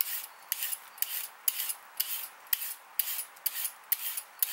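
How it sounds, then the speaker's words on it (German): A carrot is peeled with a peeler in quick, evenly spaced scraping strokes, roughly two per second, each a short crisp rasp close by, with no talk. "als nächstes nehmen wir uns die Möhre vor. Die wird schön geschält."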